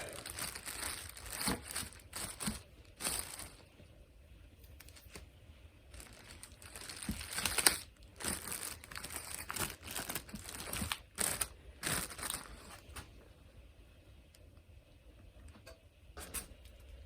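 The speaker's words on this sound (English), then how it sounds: "I'm going to cover with a plastic bag." Plastic bag crinkling and rustling close by in irregular bursts, with quieter pauses between handling sounds.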